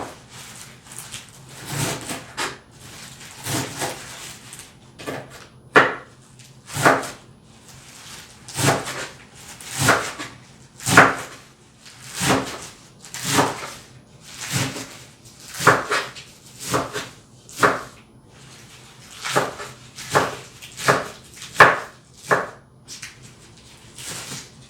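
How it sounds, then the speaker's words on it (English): Kale and Swiss chard chopped with a knife on a board, a rhythmic series of sharp, close thuds repeating at an uneven pace, alone without talk. "Now it's time to chop this gorgeous kale and Swiss chard."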